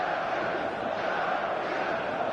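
A stadium crowd cheers on match day in the eFootball video game, a steady dense roar that holds without pause for a couple of seconds.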